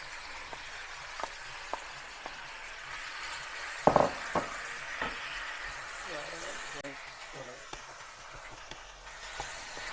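Marinated chicken pieces dropping into hot extra virgin olive oil, giving a soft steady sizzle with a few sharper spits and one brief louder crackle near the middle, under quiet kitchen background.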